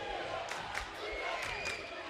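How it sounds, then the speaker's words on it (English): Penn Hills fans fill a high school basketball gym with a continuous crowd roar during an away game at Gateway, with brief shouts rising above the steady din. "A great crowd on hand here tonight, especially here on this near side right in front of us."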